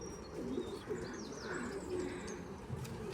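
Racing pigeons coo steadily inside a loft, a continuous low, throaty murmur of several birds close by, with faint higher chirps layered above.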